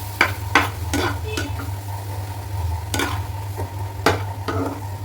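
Sooji upma is stirred in a pan after water goes in: several irregular scraping strokes of a spoon against the pan, close and fairly loud, over a continuous soft sizzle and low hum.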